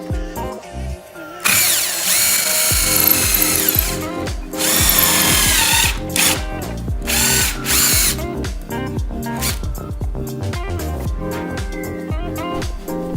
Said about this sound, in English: I like to countersink the screws and then fill with a wooden dowel